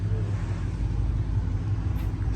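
RB-swapped Nissan 240 with a huge turbo running on a dyno, a steady loud low engine rumble droning throughout with no clear rev changes.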